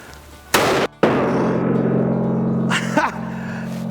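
Two sharp, loud blasts about half a second apart from a Magnum Research B.F.R. revolver chambered in .45-70, each ending in a booming tail, followed by a faint voice.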